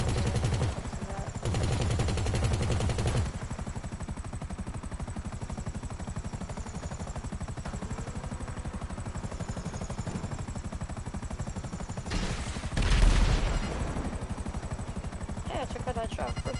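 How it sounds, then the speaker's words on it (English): Rapid helicopter-mounted machine gun fire rattles in the GTA 5 video game over a steady rotor drone, with bursts at the start and again near the end and a louder impact in between. "I guess the pilot controls the machine guns."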